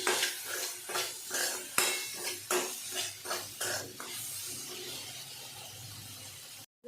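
A spoon stirs chopped tomato and salt in a hot pan, scraping and knocking against the metal in steady strokes about twice a second over a faint sizzle, then stopping abruptly.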